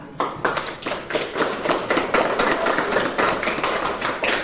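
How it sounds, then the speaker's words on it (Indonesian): A classroom audience claps hands in a brief burst of quick, uneven claps that stays moderately loud throughout. "Nah, tepuk tangan."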